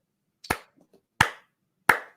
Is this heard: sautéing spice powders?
no